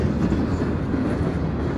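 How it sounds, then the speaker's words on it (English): A freight train rolls into the CN yard, a steady low rumble with the faint clatter of its wheels, heard alone without talk. "it's a train that's going to bring some cars into the CN yard"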